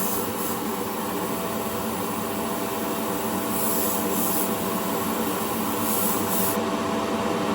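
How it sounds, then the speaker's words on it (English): A steady hissing spray runs continuously at close range, broad and even, with faint scraping textures underneath and no voices. "we're going to spray the dashboard first"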